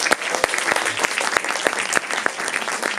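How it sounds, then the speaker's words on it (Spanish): Audience applause at a film talk, a lively patter of claps with a few sharp, distinct hand strikes standing out, continuous throughout. "Un aplauso para Eric también, por favor."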